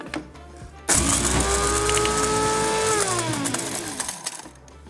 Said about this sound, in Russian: Сейчас мы все эти частички перемолем в кофемолке